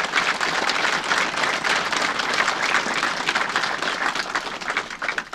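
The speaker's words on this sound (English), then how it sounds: "deserves a round of applause from each and every single one of us" Sustained applause from a crowd at an outdoor Kilmichael commemoration in West Cork, steady dense clapping filling the whole stretch with no voices over it.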